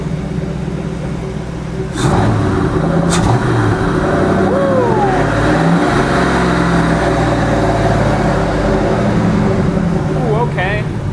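A Ford Mustang Mach 1 found under a tarp, its engine running loud and steady close by with a supercharger-like whine, briefly revved, with brief voices over it.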